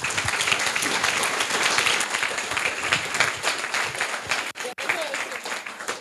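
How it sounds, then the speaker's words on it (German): A youth hackathon audience in Cologne claps for a presenting team, a dense, lively burst of applause that stays strong, briefly drops out near the end, then resumes. "Ein Applaus für die Gruppe Smart Hut."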